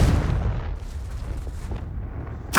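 A Confringo blasting spell cast in Hogwarts Legacy erupts in a loud, close explosive boom that rumbles away over a couple of seconds, followed by another sharp burst at the very end.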